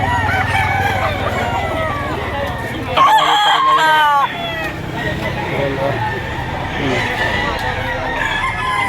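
A rooster crows loudly close by amid a noisy chicken market yard in Lipa, Batangas, full of clucking chickens and other fowl, with people murmuring briefly.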